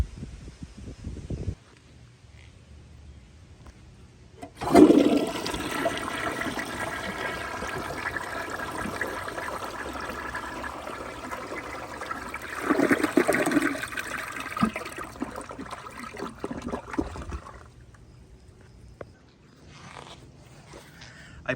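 Crane Santonia toilet flushing: quiet room, then a loud close rush of water that swirls and drains for several seconds, followed by gurgling refill that fades away.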